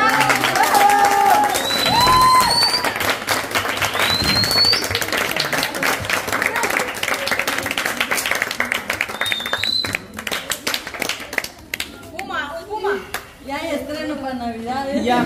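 An audience at a gift-opening gathering claws into loud, dense clapping and cheers, a sustained burst of many hands and whoops, with voices shouting and talking throughout and thinning out toward the end.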